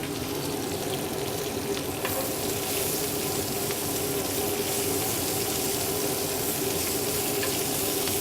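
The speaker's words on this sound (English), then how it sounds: "now we're gonna saute our Swiss chard. Now it's gonna be pretty loud when you do it at first" Swiss chard sautés in a hot pan, giving a loud, steady hiss of sizzling and frying that holds unbroken throughout, with faint crackles and stirring and no voices.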